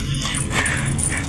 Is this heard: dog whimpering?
yes